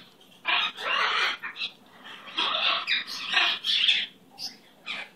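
Gonzo, a pet bird, lets out a string of raspy, squawking hoots in short irregular bursts, close and fairly quiet, with brief pauses between calls.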